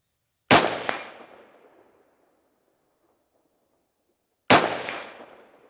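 Two loud, sharp AR rifle shots, about four seconds apart, each followed by a ringing metallic clang from AR500 steel dueling tree targets that decays over a second at an outdoor range.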